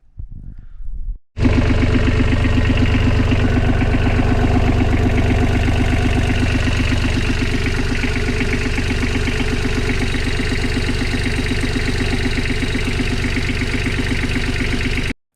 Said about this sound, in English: I'm gonna test run the engine to see if everything is okay